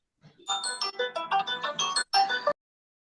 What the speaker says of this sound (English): Seriously, what is that ringtone?